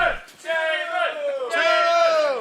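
A wrestling crowd at a Wilkes-Barre event roars and chants for Damon Scar in loud, sustained vocal swells that rise twice, with many voices blending into a rousing cheer.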